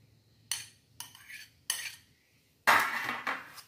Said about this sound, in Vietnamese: Bây giờ mình cho vô cái thau mình khuấy lên luôn